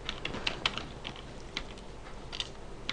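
Computer keyboard typing a command in a Linux terminal during a TinyOS install on Ubuntu, quiet close-up key clicks in irregular bursts with no talking.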